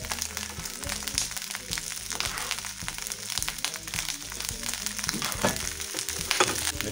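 Garlic dropped into a paella pan with clams and anchovies, frying in a continuous close sizzle with crackling bursts and occasional stirring knocks, no voices.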